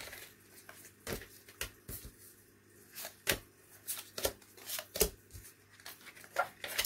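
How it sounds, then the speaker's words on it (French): Close, faint handling of a stack of playing or tarot cards, with irregular soft clicks, riffles and flicks scattered across a quiet background, no talking. "je viens de me prendre une ribambelle de cartes"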